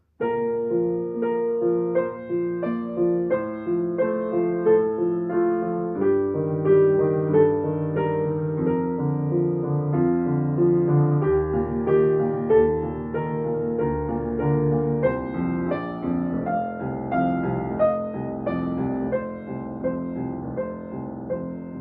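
A piano plays a flowing melody over a steady, moving bass line, clear and close, with no voices.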